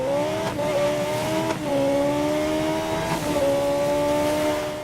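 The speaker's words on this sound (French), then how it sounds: "une bonne accélération de petite sportive là. C'est un V8 hein." A V8 sports car capable of 300 km/h accelerates hard, its engine note climbing steadily in pitch through several gear changes, loud and close with no speech.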